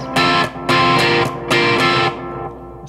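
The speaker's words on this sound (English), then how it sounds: "This one, I believe, is labeled overdrive." An overdrive setting on a cheap Wish.com effects unit gives a gritty, distorted electric tone in three sustained strummed chords, each cut off abruptly, with a fading tail at the end and no talking.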